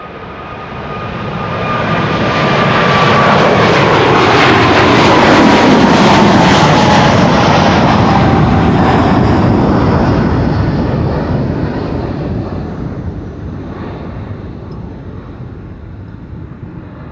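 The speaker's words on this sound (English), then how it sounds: "This is KLM flight 743 to Lima in Peru" A KLM Boeing 777-300 jet airliner passes at Amsterdam Schiphol Airport, its engine roar swelling to a loud broad rumble with a falling whine, then slowly fading as it moves away; no voices.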